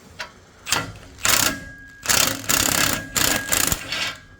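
Ratchet zipping exhaust bolts out on a Pontiac LeMans 350, quick bursts of rapid clicking repeated in several spaced runs, close and clear with no talking.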